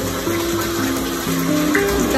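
Water running steadily into a bath for a warm, bubbly soak, a continuous broadband gush with a person talking over it.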